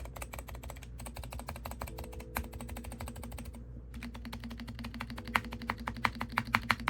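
Mechanical keyboard switches dampened with foam inside a cheap thrift-store gaming keyboard, typed in steady rapid bursts of close, muted clacks with a few short pauses and some sharper keystrokes near the end.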